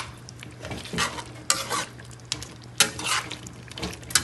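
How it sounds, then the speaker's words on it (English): Jamaican oxtail being stirred and fried in a pot, with a spoon scraping through the meat in repeated strokes over a steady sizzle, fairly close and with no talking. "Stir it in a little bit."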